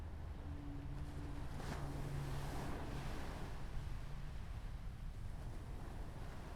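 Sea waves on a dark shoreline in a fiction film soundtrack: a steady, full wash of surf and wind rolling continuously throughout, moderately loud and enveloping, with no voices.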